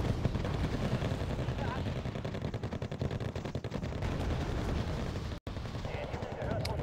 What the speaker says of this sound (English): so I'll call in mini airstrike on the place